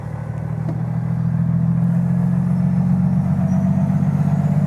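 A big hauler truck engine rumbles steadily at idle, loud and close, with a low droning tone that holds throughout and no talking.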